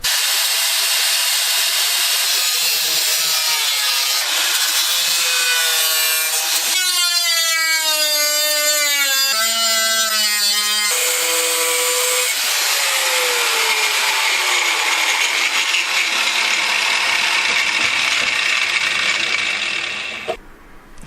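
Abrasive cutting wheel grinding through a steel frame rail on a G-body Pontiac Grand Prix, a loud continuous metallic screech with shifting whining tones that winds down at the end, with no talking.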